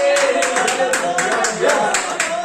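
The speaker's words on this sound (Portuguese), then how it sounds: "Glorificando a Jesus com palmas e glórias a Deus." Congregation clapping hands in rhythm during a church worship service, steady repeated claps with voices singing or speaking over them throughout.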